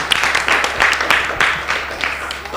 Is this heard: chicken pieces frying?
no